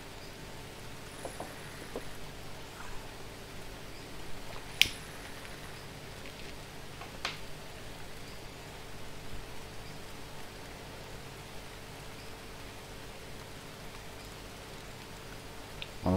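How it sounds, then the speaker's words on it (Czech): Steady rain falls in the survival game Green Hell, a soft, even hiss of drops that holds for the whole stretch, with a few faint clicks and ticks on top and no talk. "Že prší, to je fajn, protože teď bude spotřeba vody."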